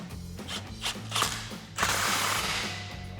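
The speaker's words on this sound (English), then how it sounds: "we can just slide our clamp into place and tighten it down with a 15mm socket." A ratchet wrench with a 15mm socket tightens an exhaust clamp on a 2015-2020 Ford F-150 5.0L V8 exhaust install, giving close, rapid pawl clicking in several bursts with metallic clatter.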